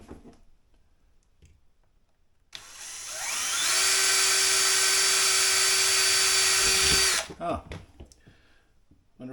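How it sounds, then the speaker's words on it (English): A power drill whines loudly for several seconds, drilling through soft metal, pitch rising as it spins up, then cuts off; a brief exclamation is heard before it starts. "This drill is going to be skating around."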